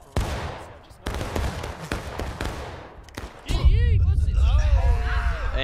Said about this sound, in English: A and B shooting on the left.